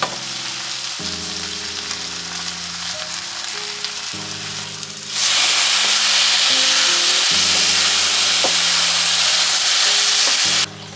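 Ground turkey and a large amount of cabbage sizzling in a pan with steady frying hiss, growing louder and brighter midway as more goes in, with occasional stirring scrapes.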